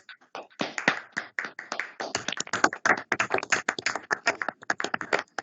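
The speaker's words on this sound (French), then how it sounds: "Et vous méritez des applaudissements." A small group applauds at an award ceremony, with close, loud, uneven hand claps rattling steadily for several seconds.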